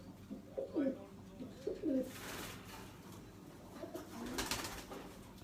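Pigeons kept for pigeon flying coo close by in two soft, throaty bursts, followed by rustling and scattered background noise.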